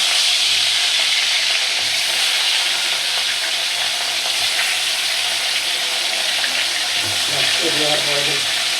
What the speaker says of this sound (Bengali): তেল দিছি কড়াইতে গরম হয়ে গেছে মাছটি দিয়ে দিতেছি